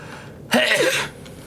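A single short, sharp sneeze burst, close and fairly loud, with quiet before and after.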